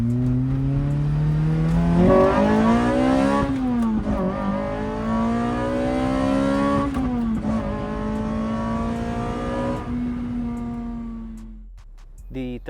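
A Lotus Elise with a custom cone air filter revs loudly and close by, engine pitch climbing and falling in several surges over a steady idle before dropping away near the end.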